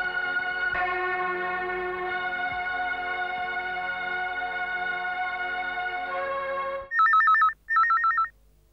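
A telephone rings with a sustained tonal electronic ring for several seconds, then two short, loud bursts of ringing follow at the end, with no voices.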